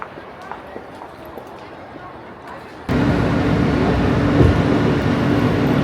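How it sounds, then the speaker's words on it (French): Footsteps and quiet ambience give way to a sudden loud, steady rumble and roar of a New York subway train in motion, with faint voices underneath. "Dans le métro, ça fait partie de notre dernier, notre dernier trajet en métro."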